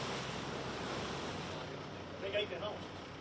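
Choppy sea waves wash steadily at Bilbao port, a continuous broad rushing surge with some wind noise and a faint voice briefly audible in the background.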